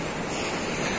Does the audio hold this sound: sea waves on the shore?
yes